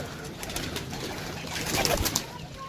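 Pigeons coo softly in short, low murmuring calls, with rustling, fluttering and background noise around them; no clear talking.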